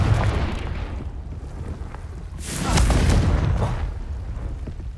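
A blasting spell explosion in a fantasy video game, a single deep rumbling boom swelling midway through over a low continuous background roar.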